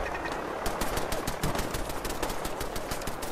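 Rapid video-game gunfire from gunners on a bridge, a quick steady rattle of automatic shots, moderately distant and fairly faint, alone without talk.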